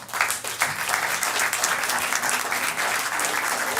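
An audience at a Hall of Fame induction applauds its attending members, with dense, steady clapping from a room full of people that holds evenly throughout.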